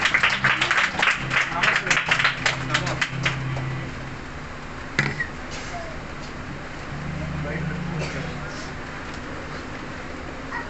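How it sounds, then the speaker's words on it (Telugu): Audience clapping breaks out at a church meeting to welcome a speaker, dense and loud for about four seconds before thinning out, with a lone clap later and low murmur and room noise continuing underneath. "చప్పట్లు కొట్టి అతను ఆహ్వానించగా కోరుతున్నాను."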